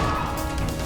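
Sledgehammer smashing in a TV action scene, a dense, loud crashing impact filling a brief moment.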